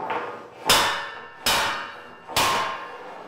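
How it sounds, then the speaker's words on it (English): A hammer strikes a metal table leg three times to take out a wobble, each hit a sharp ringing clang that decays slowly before the next, roughly a second apart and close by. "what I would do is I would take a hammer"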